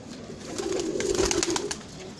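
Pigeons kept as a pure farm breed cooing close by, a soft low rolling coo rising and falling over a brief stretch, with no talk.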